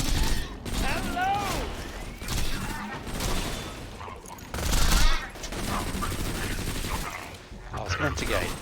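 Rapid bursts of amp-shot gunfire in the video game Borderlands 2 crack in uneven volleys, with a voice talking in places.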